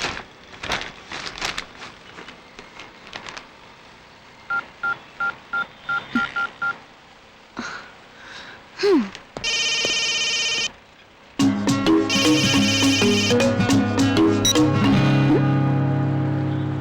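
A telephone keypad beeps through a quick series of dialing tones, a ringing tone sounds briefly, and loud music then takes over.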